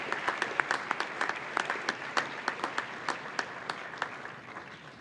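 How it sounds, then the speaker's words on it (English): An audience at a youth service awards ceremony gives a smattering of applause, individual claps distinct and rhythmic over a soft crowd wash, fairly quiet and tapering toward the end. "we can have a round of applause for all of them,"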